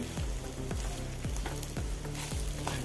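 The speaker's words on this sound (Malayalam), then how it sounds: "ഇനി ഇളക്കി കൊടുക്കാം" Sabudana upma frying in a pan on the stove, with a steady close sizzle and rhythmic scraping stirs landing roughly every half second.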